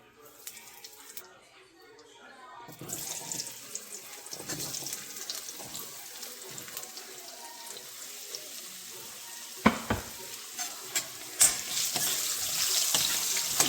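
Curry leaves drop into hot oil for tempering. A quiet start gives way to a sudden, sustained crackling sizzle, broken by a few sharp clinks and light kitchen clatter, and a voice speaks in the background.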